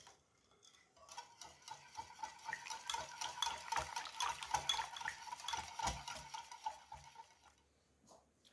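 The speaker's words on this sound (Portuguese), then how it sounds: "agora eu vou bater com o fouet" Rapid, steady clinking of a whisk beating creamy cornmeal cake batter in a bowl, close and continuous for several seconds with a quieter start and finish.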